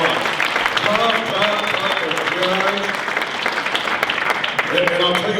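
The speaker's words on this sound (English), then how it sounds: "Give the contestants a round of applause." Applause for contestants at the 2017 OSAA auctioneer contest: a loud, sustained round of clapping from the audience, with a voice speaking over it throughout.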